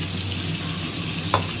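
Fish frying in hot oil in a Bengali home kitchen, a steady close sizzle with one brief clink partway through, no voices.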